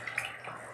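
Water being poured into a mixture of acetone, rubbing alcohol and glycerin, a short, soft splashing trickle of liquid that stays close and fairly quiet.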